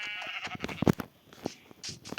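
A cow in the video game Minecraft makes a short, close moo amid small game noises.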